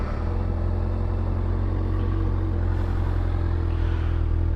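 A 2022 Kawasaki ZX6R sport bike with its stock muffler idles steadily and fairly quietly nearby, a low even engine rumble with no talk over it.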